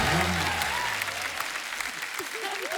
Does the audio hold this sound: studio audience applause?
yes